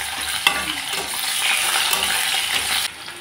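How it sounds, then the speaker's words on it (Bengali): Medium-sized cut potatoes fry in a pan with a black cumin tempering, a bright, dense sizzle close up that holds steady for a few seconds, with a single sharp tap early on and no speech. "এখন আমি আলুগুলোকে লাল লাল করে ভেজে নেব।"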